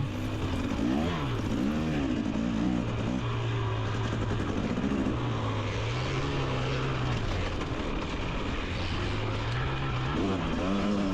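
A KTM two-stroke dirt bike races through mud in a GNCC cross-country event, its engine droning loud and close, with pitch rising and falling as the rider works the throttle. The sound is steady throughout, with no talk.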